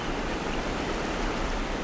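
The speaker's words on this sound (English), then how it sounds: "The old tea trees Li's forefathers left him stand on a small plot at the cliff edge, the shortest distance possible from the waterfall" A waterfall beside old tea trees on a small plot at a cliff edge roars as a dense, steady wash of rushing water, constant and enveloping with no voices.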